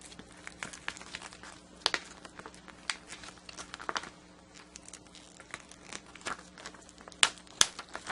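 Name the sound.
peeling TexTack adhesive foil heat transfer vinyl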